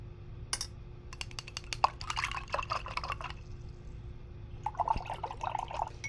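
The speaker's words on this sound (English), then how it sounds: "I'm gonna wash my brush." A paintbrush swished and tapped in a water container while painting with acrylics, with quick clicking taps and small splashy drips coming in bursts, close up and quiet, no voices.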